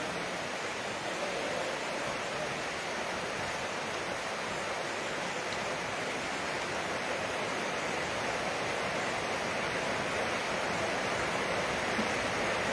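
Heavy rain pours down steadily and loudly throughout, a dense continuous hiss with no breaks and no voices.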